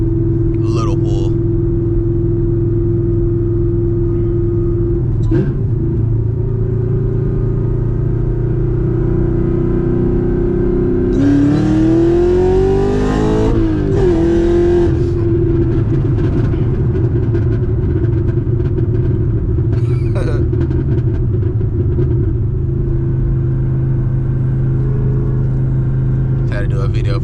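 Supercharged manual Chevrolet Camaro ZL1 making about 900 horsepower, a steady loud engine drone that swells into a brief hard acceleration rush and shift mid-clip before settling back to cruising rumble.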